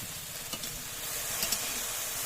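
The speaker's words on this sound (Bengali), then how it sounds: "দেখো কড়াইতে এখন ভেন্ডি ভাজা করছিলাম, ভেন্ডি ভাজা হচ্ছে" Okra (bhindi) frying in a kadai, a steady close sizzle with faint stirring scrapes and small crackles, no voices.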